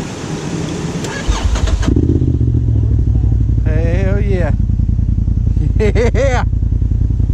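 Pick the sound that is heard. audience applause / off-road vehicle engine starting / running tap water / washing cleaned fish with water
off-road vehicle engine starting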